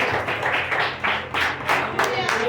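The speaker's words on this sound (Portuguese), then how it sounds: "o teu filho com a salva de palmas nesta noite" Rhythmic clapping from a church congregation during a service, steady and fairly loud, with voices mixed in underneath.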